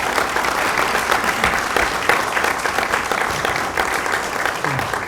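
A church congregation claps steadily to celebrate a church founding service, a dense and even wash of applause that holds at full volume throughout.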